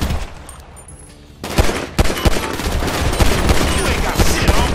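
Gunfire in Grand Theft Auto V, a dense, loud volley of rapid shots that starts after a quieter opening and keeps going as sharp bursts over steady background noise.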